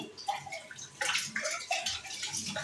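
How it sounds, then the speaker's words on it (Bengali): Dishes being washed in a home kitchen under running water, with continuous splashing and trickling, small sloshes and clinks of plates, steady and close by. "একটু বাসন আছে, এগুলো ধুয়ে নিচ্ছি।"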